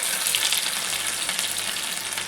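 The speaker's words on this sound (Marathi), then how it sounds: "तर बघा इथं मी हे तेल चांगलं कडक तापवून घेतलं आहे. तडक्यासाठी याच्यात थोडी मोहरी टाकायची" Crackling, popping sizzle of mustard seeds in hot oil, dense and continuous for a couple of seconds, close up with no talking.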